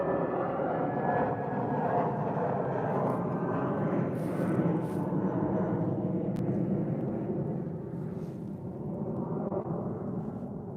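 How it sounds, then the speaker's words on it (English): An Airbus A320 jet passes overhead near Chicago O'Hare, a loud, steady roar of engines sustained throughout and easing slightly toward the end. "Here's an A320 headed to Kansas City. It's gonna come right over us."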